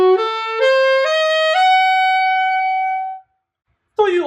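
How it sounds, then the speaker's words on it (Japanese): Four synthesized notes of a diminished seventh chord step upward one after another, each held and overlapping into a sustained chord that fades out, followed by a brief burst of speech. "これこそがディミニッシュの音です。"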